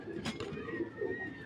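A black racer pigeon, a large female, coos with a soft, low, repeated murmur, close by, with faint talk and bird noise in the background.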